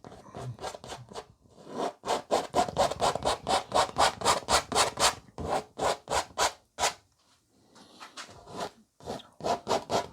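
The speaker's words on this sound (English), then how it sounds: "Scrape off the excess." A painting tool scraping excess paint off a canvas in a landscape painting, heard as a fast run of loud, close rasping strokes, briefly pausing and then resuming, with no voice.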